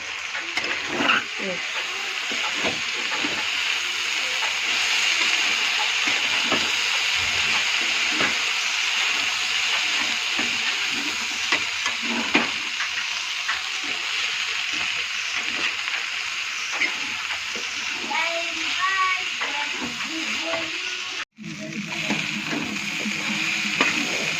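Thick-cut cabbage fries in a pan with a continuous crackling sizzle and intermittent stirring scrapes, close and fairly loud throughout, with a brief dropout and a voice faintly audible late on.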